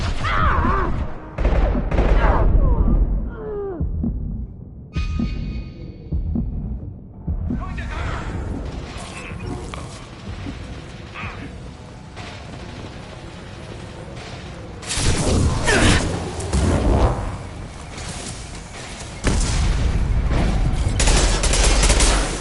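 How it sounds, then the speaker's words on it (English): Impact gun firing in Mass Effect 2 Legendary Edition, repeated loud percussive volleys and bursts of gunfire broken by brief quieter gaps, with chaotic combat noise throughout. "Firing an impact gun."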